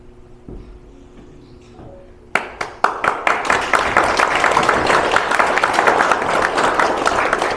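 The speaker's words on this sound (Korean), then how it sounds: "구원 총재님과 박남팔 총재님께 뜨거운 박수 부탁드리겠습니다" Applause breaks out at a Korean association's presidential inauguration and farewell ceremony after a quiet start, many hands clapping loudly and steadily in a hall and building into a sustained roar.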